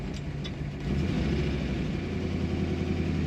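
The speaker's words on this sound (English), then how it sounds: "it's the traditional kind of muffled exhaust, but even with it muffled, it sounds amazing." A 1959 Corvette engine running through a traditional muffled exhaust, a steady low rumble close by that swells slightly after the first second and holds evenly with no talk.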